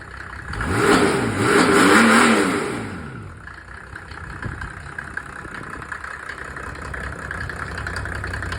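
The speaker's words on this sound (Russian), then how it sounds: "А ну погазуй" A Mercedes OM603 diesel engine revs up twice, rising and falling close by. It then settles back into a steady, lower idle.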